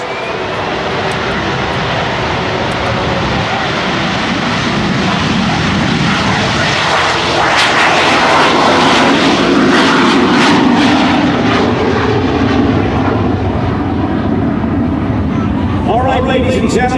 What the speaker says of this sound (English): you just saw a very, very special airplane take off